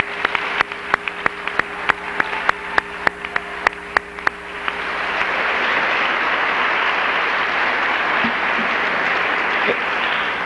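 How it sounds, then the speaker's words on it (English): An audience at a Hall of Fame ceremony gives the honorees a round of applause. A few separate claps come first, then dense, steady clapping from many hands swells and carries on. "Let's give them another round of applause"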